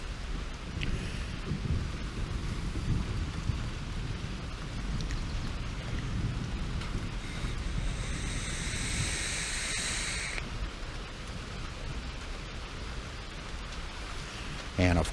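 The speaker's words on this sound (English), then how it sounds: "yeah, some thunder." Steady rain with a low rumble of thunder on a stormy evening at an auction, a constant hiss of falling rain and deep rolling booms, moderately faint and continuous.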